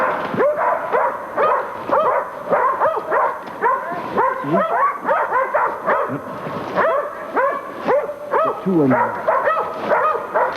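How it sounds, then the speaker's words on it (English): Hounds baying at a cornered wild boar during a hog hunt, a loud, continuous chorus of overlapping howls, yelps and barks from several dogs close by, with no talk. "After baying the boar, the hounds are generally able to hold them there for a few minutes"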